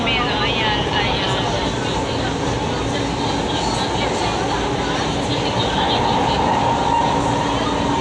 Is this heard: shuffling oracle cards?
no